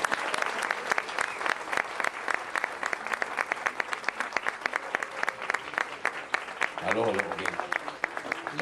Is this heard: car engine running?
no